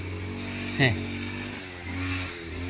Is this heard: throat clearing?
no